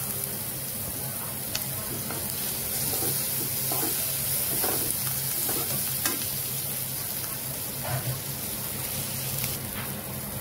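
Tomatoes fry in a hot pan for a chili-pepper vegetable dish, keeping up a dense, even sizzle with scattered stirring taps and light scrapes close by.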